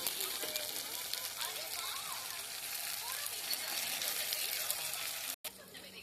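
Chopped tomato sizzles in a frying pan with a steady, bright hiss that runs almost unbroken, cut by one brief dropout near the end.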